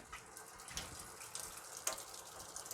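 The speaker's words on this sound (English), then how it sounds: "Just give it a good wetting with some screaming hot tap water" Hot tap water runs steadily over a wooden rifle forestock from an Enfield No.1 rifle, a soft continuous splash and gush with small irregular spatters.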